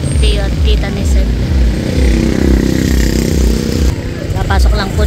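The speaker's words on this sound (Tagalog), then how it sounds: "Papasok lang po ni Seth yung motor." A motorcycle is ridden in at a house in Barangay Kumon, its engine rumbling loud and close with steady low pulsing, while people talk over it.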